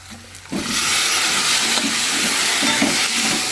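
Chopped spiny gourd (kartule) hits a hot pan and breaks into a loud, steady sizzle that carries on with faint stirring. The frying is close and continuous, with no talk over it.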